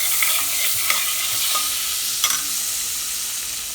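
Butter melting in a hot pan for fried chicken with macaroni and cheese, a steady close sizzle and hiss with a few light stirring scrapes.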